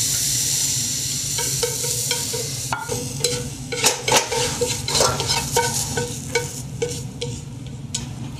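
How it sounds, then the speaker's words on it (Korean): Ingredients being stir-fried in a pan for a Korean royal court cold platter, a steady close sizzle broken by repeated scraping and clacking strokes of a utensil, loudest around the middle. "마지막으로 서기를 볶아 보겠습니다"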